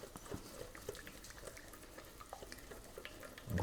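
Olive oil and Cajun spice blend with paprika being mixed in a bowl: soft, faint wet stirring and scraping strokes in a quiet kitchen, with a light knock at the end.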